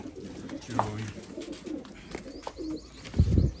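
Pigeons fed a traditional homemade diet coo in low, throaty bursts, with faint chirps and rustling around them, close by.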